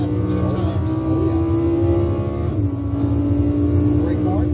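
A Lamborghini Huracan accelerating on a race track, its engine pitch rising in a steady loud whine, dipping briefly at a shift, then climbing again, with a voice talking over it.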